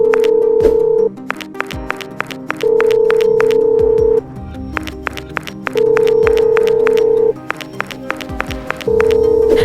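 A telephone ringback tone repeats in long, evenly spaced bursts, loud and clear over rhythmic background music with sharp percussive hits.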